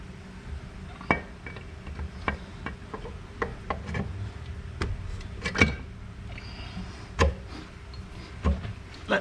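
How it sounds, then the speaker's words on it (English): A mallet tapping a carburetor intake down onto its studs on a Fiero GT 2.8L engine, a scattered series of sharp light knocks and clinks at uneven intervals over a quiet background. "We'll get the mallet and tap it down."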